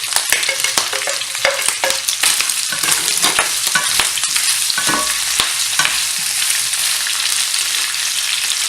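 Leek and ginger fry hard with pork belly in a pan for a Chinese-style dish, a loud, continuous close sizzle broken by scraping stirs.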